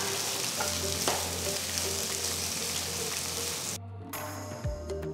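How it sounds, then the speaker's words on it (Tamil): Two sliced onions and three green chillies sizzle loudly and steadily in a hot pan for coriander rice, then the frying quietens as something is stirred with a light scrape. "நீல வாக்கில் நறுக்கின 2 வெங்காயம், கீரின 3 பச்சை மிளகாய் சேர்த்து நல்லா வதக்குங்க"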